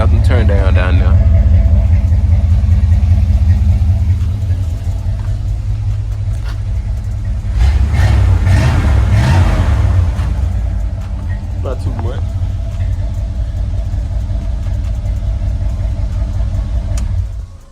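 Car with a newly fitted exhaust, a deep close rumble that starts loud, settles into an idle, then surges with revs midway before dropping back to idling.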